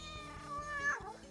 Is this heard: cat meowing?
yes